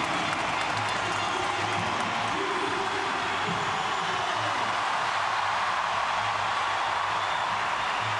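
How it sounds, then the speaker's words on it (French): A large stadium crowd cheers for Usain Bolt before the 100m race at the Brussels Diamond League meeting, a steady, dense roar of voices and applause that holds at a constant level throughout. "on vous laisse apprécier bien évidemment les encouragements de la foule"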